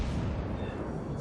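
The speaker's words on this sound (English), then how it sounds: "More shots into the North Carolina." The Bismarck's secondary guns fire in World of Warships, a dense rolling boom of naval gunfire with someone talking over it.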